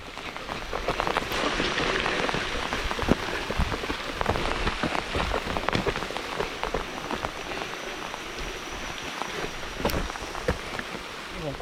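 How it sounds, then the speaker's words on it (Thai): Heavy rain pours steadily on a forest during a mushroom hunt, heard from under a rock shelter: a dense, loud, continuous patter with scattered close drops and no talking. "โอ้โห ฝนตกค่อนข้างแรงนะครับผม"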